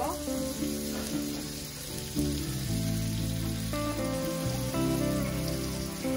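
Chopped onion sizzling in mustard oil in a pan, a continuous dense frying hiss at steady loudness, with background music underneath.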